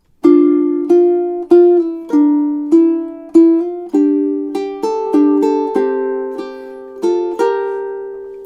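Ukulele playing measures 25 to 28 of a song from Spirited Away, a steady rhythm of plucked chords and melody notes, each ringing and decaying, loud, close and with no voice.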